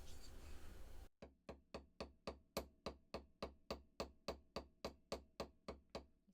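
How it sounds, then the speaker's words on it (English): Hammer flattening the end of a 16 gauge wire for a gemstone chip tree of life pendant, a steady run of about fourteen crisp, evenly spaced close metallic taps after a brief noisy opening. "I'm going to go ahead and hammer the end of this 16 gauge wire"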